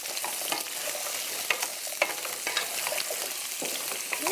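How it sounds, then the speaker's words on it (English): About three cups of chunky vegetables sauté in a pan with a constant sizzle, broken by repeated spoon scrapes and clicks of stirring, close and fairly quiet. "The vegetables are getting sauteed."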